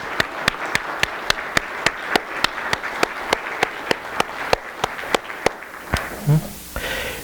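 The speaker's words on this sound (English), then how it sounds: "Let's give them a round of applause for being willing to serve." At an annual parish meeting of St. John's Episcopal Church, distinct hand claps ring out in a steady, evenly spaced rhythm for several seconds, then stop near the end as a voice begins to speak.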